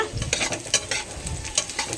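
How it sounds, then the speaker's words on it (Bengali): Onions frying in a pan give a close, crackling sizzle with frequent quick stirring scrapes in an uneven rhythm, no one speaking. "এখানে পেঁয়াজ ভাজা হচ্ছে"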